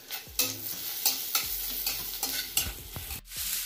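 Taro pieces frying in a little oil with garlic and whole cumin, stirred with quick scraping strokes about every half second over a steady close sizzle; no one speaks.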